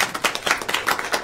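Applause at a school board meeting comes as a brief burst of quick, dense clapping from a small group in a meeting room, fairly close and steady.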